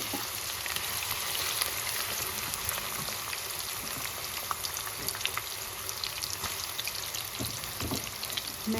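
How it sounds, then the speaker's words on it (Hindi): Onions fry in hot oil for chicken achar, a continuous crackling sizzle with scattered pops and spatters, steady and fairly quiet, close by with no talking. "ऑयल जो है गर्म हो चुका है, अब इसमें डालूंगी मैं प्याज।"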